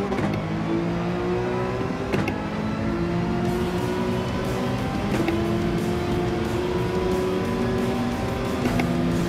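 Race cars start a race in Gran Turismo 7, engines droning and revving loudly together in a steady roar, with periodic gear-shift dips and rising pitch as they accelerate.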